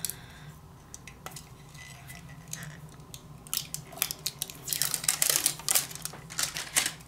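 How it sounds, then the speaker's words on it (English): Tape is peeled off the bottom of a warm sublimation mug just out of a mug press, giving soft crinkling and sharp tearing crackles that grow louder and busier toward the end. "So we're gonna pull the tape off the bottom."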